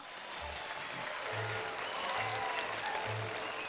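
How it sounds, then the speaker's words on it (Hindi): A studio audience at a Pakistani TV game show claps in steady, continuous applause. The clapping is dense and even throughout, with faint background voices. "जिनको लगता है गाड़ी है तालियां बजाओ"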